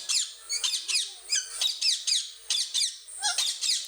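A green parrot squawks repeatedly in sharp, shrill bursts, about a dozen calls in a quick uneven rhythm, close and loud with no voices.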